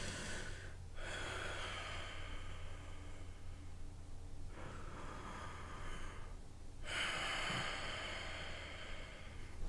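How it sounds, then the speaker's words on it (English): Slow, heavy breathing of the masked killer Michael Myers at the end of the Halloween 2018 credits, faint, close and alone, with long drawn breaths in a steady rhythm and brief pauses between them. "at the end of the credits, you hear Michael breathing"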